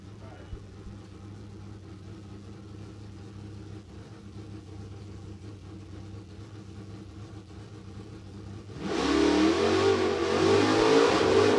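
Drag racing car at the line for a time run, a faint idle drone under announcer talk, then a loud burst of engine revving and acceleration over the last few seconds.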